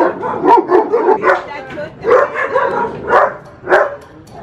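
Several dogs bark and yip repeatedly in close, irregular bursts, loud and near, with a person's voice mixed among them.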